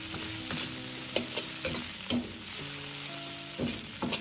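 Drained chicken wings stir-fried in oil in a wok, a soft continuous sizzle punctuated by crisp, irregular clacks of the spatula against the pan, alone without speech.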